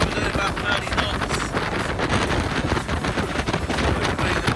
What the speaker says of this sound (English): It's very windy because we're doing about 30 knots.